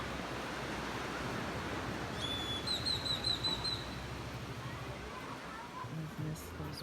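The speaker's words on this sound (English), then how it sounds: "birds." Birds chirping outside by the sea in Panama, a short series of high repeated chirps over a steady wash of surf noise, with faint talk nearby.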